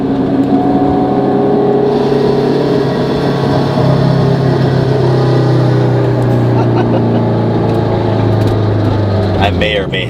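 2022 Honda Civic Si held at about 4,000 RPM with the exhaust cutout open, giving a loud, raspy, sustained drone that grows harsher after the first couple of seconds and stays steady, with a short voice near the end.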